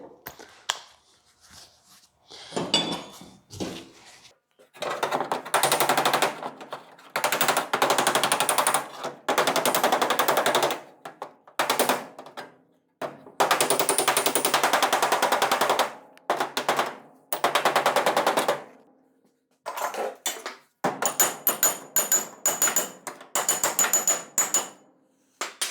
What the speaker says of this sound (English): Still have a little bit of hammer and dolly work to do to clean up this area